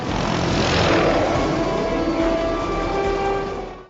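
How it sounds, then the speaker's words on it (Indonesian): A police helicopter in a film flies past, its loud rotor and engine drone swelling then slowly fading near the end, heard alone. "Sementara pihak kepolisian segera melakukan pemantauan dengan menggunakan helikopter."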